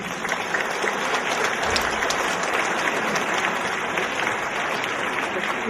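Steady, dense applause from an audience at a Miss Orléanais beauty pageant fills the room at full volume, continuous and unbroken with no voices standing out.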